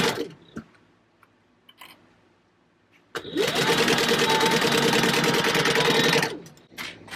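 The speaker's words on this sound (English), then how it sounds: "we're going to sew at 1/4 inch seam allowance" A sewing machine runs a continuous quarter-inch seam through fabric pieces for a Christmas storybook bag, a loud steady mechanical whir lasting about three seconds and preceded by quieter handling clicks.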